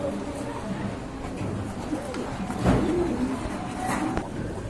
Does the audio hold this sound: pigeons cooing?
yes